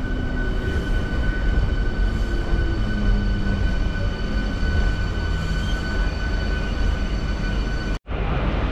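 A Salem to Arakkonam MEMU express train runs along the track, heard from inside as a loud, steady rumble with faint whining tones, ending in a brief sharp dropout.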